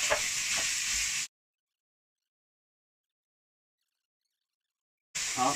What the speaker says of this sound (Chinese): 好，我们现在加入牛肉